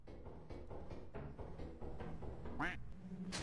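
A duck quack from the video game Lethal Company rings out once near the end, brief and mid-level over a steady bed of game noise and voice-like murmur.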